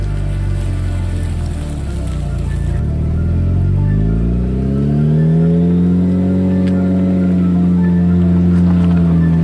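A Jeep Wrangler engine in first gear revs up loudly with a rising then sustained roar as it climbs a steep, 32-degree snowy hill, close and without speech.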